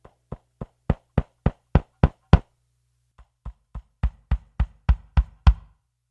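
A Ludwig 1975 Maple Classic kick drum captured by an AKG D112 mic placed just outside the sound hole, with two runs of evenly spaced, punchy thumps building in strength, separated by a short gap.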